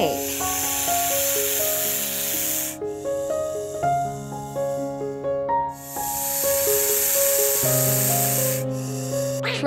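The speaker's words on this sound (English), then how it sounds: "Snake." A snake gives two long, breathy hisses with a short gap between them, laid over steady background music chords.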